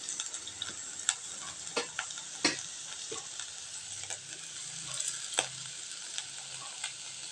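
Finely chopped ginger frying in a pan with already sautéed onions, a steady bright sizzle with scattered crackles and pops, close and fairly quiet, without any talk.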